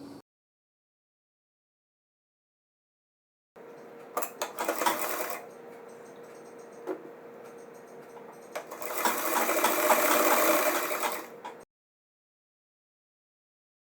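Sewing machine stitching a belt onto pyjama trousers, running in two bursts of steady rapid stitching with a brief pause between them, close and fairly loud, with silence before and after.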